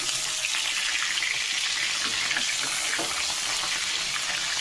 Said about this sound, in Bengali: আগে আমি এই মাছের মাথাগুলোকে ভেজে নেব